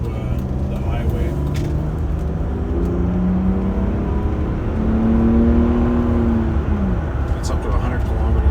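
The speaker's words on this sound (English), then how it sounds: "So we're just going to accelerate onto the highway." A 1995 Mercedes-Benz E320 sedan accelerates onto a highway, its engine note heard from inside the cabin climbing and falling through gear changes under steady road and tyre noise, with someone talking over it.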